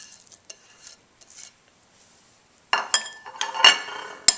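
A spoon stirs grated butternut squash into fritter batter in a bowl, with a few faint scrapes at first, then a quiet pause before a burst of louder clinking, scraping strokes up close.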